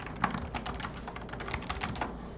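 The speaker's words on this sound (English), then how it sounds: "Gotta love those keyboard noises" Quick, irregular clicking of computer keys being typed on nearby, soft and steady with no voices.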